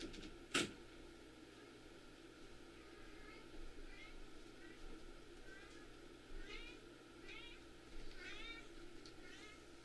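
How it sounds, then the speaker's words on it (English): Three little baby kittens meowing: several faint, high, wavering mews spread across a quiet room tone, after an early sharp knock close to the microphone, with no clear talking over them. "we have 3 little baby kittens walking around here"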